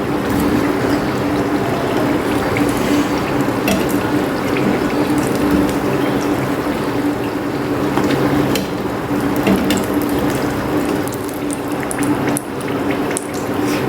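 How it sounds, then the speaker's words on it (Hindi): Tandoori chicken box patties fry in hot oil, a steady loud sizzle and crackle holding constant throughout with scattered pops, and no voice over it. "अब इसे मैं फ्राई कर लूँगी इसके अंदर डाल के"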